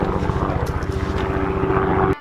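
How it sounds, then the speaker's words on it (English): Helicopter passing overhead outdoors, a steady rotor chop with a throbbing low pulse and engine whine, fairly loud and continuous with no talk. "There's a helicopter back there."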